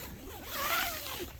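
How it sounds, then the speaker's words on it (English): Zipper running along the door of a winter tent vestibule, one continuous close zip that rises in the middle and trails off, alone without talk. "So you got a door on each side here that zips up."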